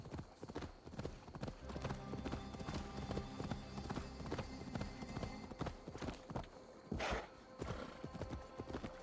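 Rapid clip-clop of horse hooves in Assassin's Creed Valhalla, close and rhythmic, with a brief neigh near the end.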